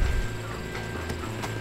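Horse hoofbeats from a mount in the Red Dead Redemption video game, a steady rhythmic clip-clop of a sprint over low game rumble, fairly close and continuous, with no talk.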